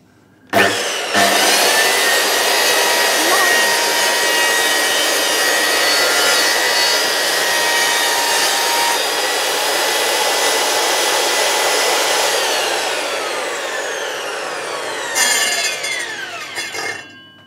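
A power saw running along a guide track, cutting timber inside an old chateau: a steady, loud whining drone that holds for over ten seconds, then rises and tails off as the cut finishes.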